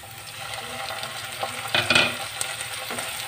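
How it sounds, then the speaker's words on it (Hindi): Tomatoes, onions and green chillies fry in a pan, giving a soft continuous sizzle with a few brief stirring scrapes near the middle, close and moderately quiet. "अब दो मिनट इसे ही सॉफ्ट होने तक भूनेंगे।"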